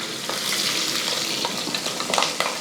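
Garlic, ginger and green chilies stirred into sizzling masala inside a pressure cooker, a steady close frying hiss with scraping spoon strokes at irregular intervals, no voices.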